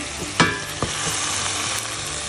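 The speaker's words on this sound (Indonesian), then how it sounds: "kita oseng-oseng bentar biar ini berasa kayak ayamnya ini" Chicken pieces being stir-fried with seasoning in a hot pan, a steady sizzle broken by a few sharp scrapes and clanks of the spatula as the meat is tossed.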